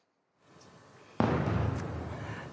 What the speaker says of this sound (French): Une énorme explosion donc qui vient de retentir au-dessus de Tel Aviv.